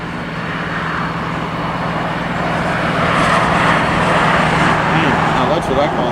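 Kalitta Air cargo jet at Los Angeles International Airport, a steady, loud engine roar that swells slightly toward the end, with faint voices under it.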